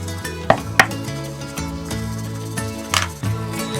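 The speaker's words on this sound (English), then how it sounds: "There's our zebra steak. Just going to chop him up" Knife chopping a zebra steak on a board, a few sharp irregular thuds close by over a low kitchen hum, with no one talking.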